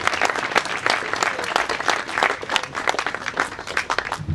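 An audience at a scholarship celebration applauds the year's scholarship recipients with lively, dense clapping from many hands, close and steady across the whole stretch.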